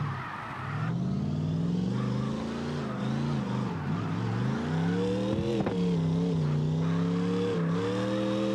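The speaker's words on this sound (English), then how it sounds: "I wish they'd fix this engine sound bug too." A drift car's engine in the CarX drift racing video game wails and warbles as it revs up and down, with pitch bending repeatedly. The sound is steady and synthetic, with no talk over it.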